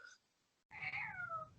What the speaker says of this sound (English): I hear a cat meowing and running off